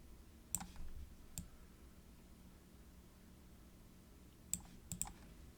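Sharp mouse clicks while dragging design elements in Cricut crafting software, a few isolated taps near the start and a cluster near the end over a quiet room hiss.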